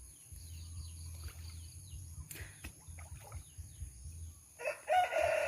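Rooster crowing and chickens on a Thai farm where ducks and chickens are raised, the crow rising loud near the end over a steady low hum and scattered clucks in the morning air.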